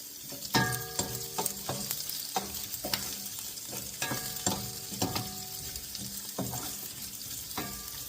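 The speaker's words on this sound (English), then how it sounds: "That garlic's getting nice and toasty. See that garlic getting some color on it." Garlic frying in a pan, a steady crackling sizzle broken by repeated sharp clinks and scrapes of stirring, close and moderately quiet with no talking.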